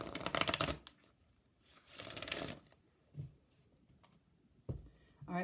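Oracle cards are shuffled and pulled from a deck in a few short, crisp riffling bursts with soft handling rustles between them, recorded close and fairly quiet.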